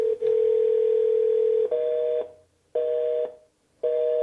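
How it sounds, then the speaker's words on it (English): A telephone line gives a long steady dial tone, then switches to a higher repeating tone in three on-off pulses with silent gaps between them, clear and close with no talking. "That dial tone means that they did not get into the queue."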